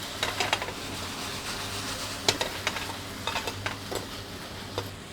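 Chicken and ginger frying in a pan as fish sauce goes in, a continuous sizzle broken by repeated scraping and stirring knocks of a utensil against the pan.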